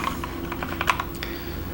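Rapid keystrokes on a computer keyboard patter at moderate volume, irregular clicks bunching into quick bursts over a steady low background hum.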